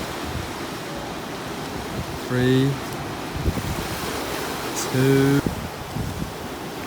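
Ocean surf rolls steadily onto a surf beach at Taghazout and Tamraght in Morocco, a broad wash of waves and wind under a voice, with two short tonal bursts standing out in between.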